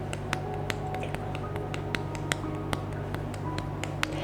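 Fingertips tapping quickly on facial skin during a facial tapping routine, a steady stream of light, crisp close-up taps in rapid even rhythm over a constant low background hum.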